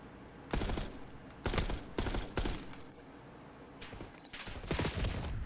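Bursts of automatic gunfire in the Black Ops 6 shooter game, several loud, broadband volleys of rapid shots separated by brief pauses, close and dominant with no talk.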